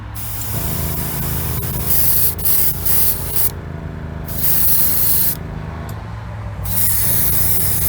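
Spray paint is applied to a Hot Wheels drag bus to build a colour fade, a loud, steady close hiss in repeated short and long bursts with a low background hum and no talk.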